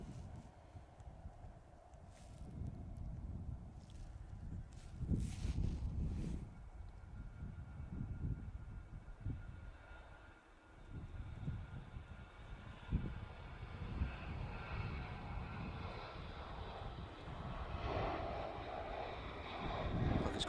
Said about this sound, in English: another departure on the roll. This one is 737-800 TUI going off to Tenerife South